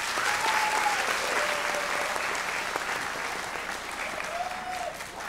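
Warm, sustained applause fills the hall for the young singer, a dense crowd of clapping hands that thins slightly toward the end, with faint voices drifting through.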